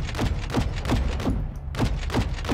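Gunfire in the shooter Modern Warfare 2: a rapid, evenly spaced string of loud, heavy shots with booming low ends, a brief pause, then the shots resume at the same steady rhythm, with no talking.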